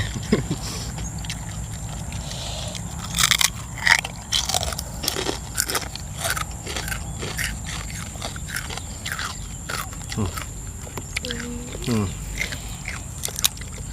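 Crisp, crunchy bites and chewing of spicy pounded som tam salad outdoors in the evening, a series of close crackling crunches over a soft background hiss, with no talk.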